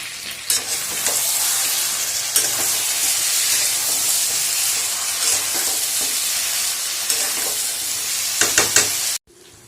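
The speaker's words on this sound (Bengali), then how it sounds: "মাংসটা কষানো প্রায় হয়ে এসছে" Duck meat stir-fried with spices in a pan for a traditional curry, a loud continuous sizzle with repeated scraping stirs throughout, then an abrupt stop at the end.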